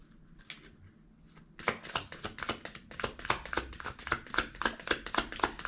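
Tarot cards being shuffled during a reading: a few soft riffles, then a close, steady run of crisp card slaps and flicks in a quick regular rhythm.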